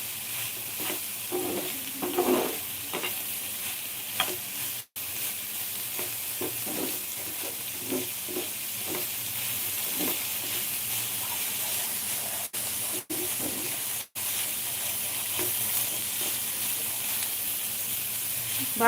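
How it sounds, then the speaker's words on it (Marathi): Paneer and peas masala roasting on a low flame, a steady soft sizzle with faint scraping and stirring strokes throughout, with no talk. "कमी गॅसवर असं भाजून घ्यायचं"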